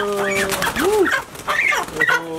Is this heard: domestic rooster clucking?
yes